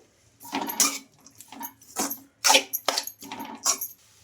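A spoon stirs chopped spring onions into a rava batter in a bowl, giving a handful of clinking, scraping metal-on-dish strokes in irregular bursts, fairly close, with no talk.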